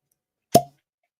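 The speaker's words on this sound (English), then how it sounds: "nice little cork pop there" A cork pops out of a Glen Scotia Mermaid whisky bottle in a single short, hollow plop, close and clean against silence.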